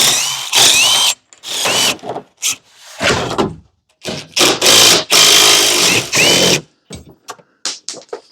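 A power tool pulls bolts from the roof of a Club Car DS golf cart, loud whirring bursts in short irregular runs with brief pauses between, close by and with no talking.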